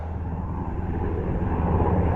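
A continuous low engine drone from a state police helicopter, steady and fairly loud, swelling slightly as it goes on, with no voices.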